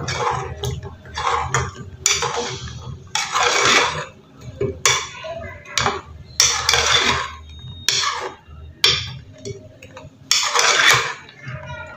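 A spoon stirs gulab jamun balls in a pot, giving repeated loud scraping and clinking strokes in an uneven rhythm, with short pauses between bursts.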